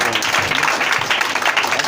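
A church congregation applauding to acclaim God, a steady wash of many hands clapping, loud and sustained throughout.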